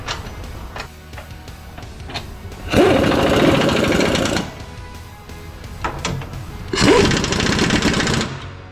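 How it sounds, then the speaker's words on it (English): A power tool runs bolts in to secure the radiator on a Takeuchi TL12 compact track loader, with two loud buzzing bursts of about two seconds each, split by clunks and handling noise. "Putting the bolts back on, secure the radiator so it doesn't bounce around."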